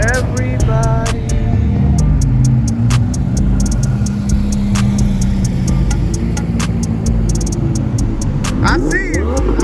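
A twin-turbo Audi R8 at a car rally event rumbles loudly nearby with deep engine tones, mixed with crowd chatter, shouts and sharp clicks and bangs around it.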